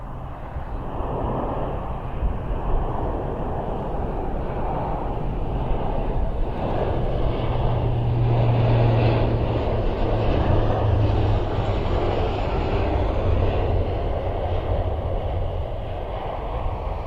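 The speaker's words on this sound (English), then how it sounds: "It looks like he's going for a touch and go." A military transport aircraft, most likely a C-130, performs a touch-and-go at Mildenhall airfield, its engines giving a steady, loud drone for the whole stretch, with no talking over it.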